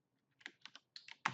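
A handful of quick keystrokes tap on a computer keyboard up close, in short irregular bursts that end with a louder final key press. No voices.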